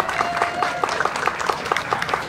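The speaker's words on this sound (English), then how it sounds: "So give her a great big round of applause." Short stretch of moderate audience clapping for a young performer at a pantomime show, with a steady patter of hands and faint crowd murmur throughout.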